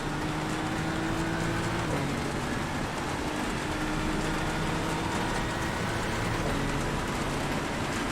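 Steady, dense rain pattering on a car body in the iRacing game during a race at Sebring, a constant wash of drops with a low engine rumble underneath and no talking.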